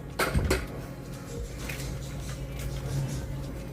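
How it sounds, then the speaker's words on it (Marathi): A wok clanks down onto the stove with a couple of metallic knocks near the start, followed by quiet rustling. "कढई ठेवते."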